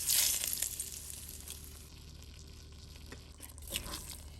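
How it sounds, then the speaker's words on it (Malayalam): Mustard seeds and chillies fry in hot coconut oil for a jackfruit curry tempering, a faint, steady sizzle with a brief louder crackle at the start and again near the end. "വെളിച്ചെണ്ണ ചൂടായി കടുകും കുറച്ച് മുളകും ഒക്കെ ഇട്ട് കൊടുത്ത്"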